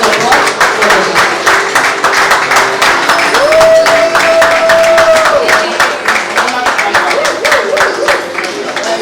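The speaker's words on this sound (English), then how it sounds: "A round of applause for him for his contribution and support for the year." Guests at an awards dinner applaud a winner, dense continuous clapping from a crowd with a sustained tone rising briefly above it.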